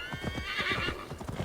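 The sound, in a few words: horse galloping in a video game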